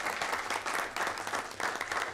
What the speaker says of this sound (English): Let's give them a big round of applause for that.